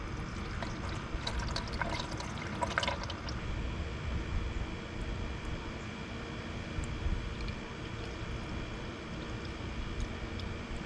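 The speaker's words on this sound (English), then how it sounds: "I'm going to put some universal coolant in. I'm going to use this funnel" Universal coolant being poured through a funnel into the radiator of a 1990s Toyota Corolla or Celica, a soft continuous liquid trickle and gurgle under a steady background hum, with a brief brighter splash early on.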